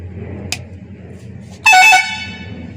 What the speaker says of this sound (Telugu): ఓకే, స్విచ్ పైకి వేసాం అనుకో కంపెనీ హారన్.